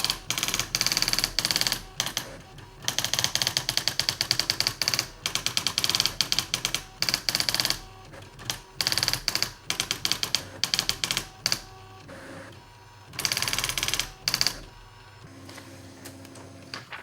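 An Olivetti PC typewriter prints a list, its daisy-wheel style mechanism rattling in rapid bursts of strikes separated by short pauses and carriage movements, close and loud with no voices.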